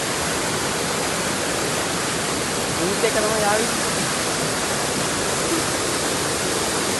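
A stream swollen with a lot of water rushes steadily as a dense, unbroken wash of noise throughout, with a faint voice briefly speaking beneath it.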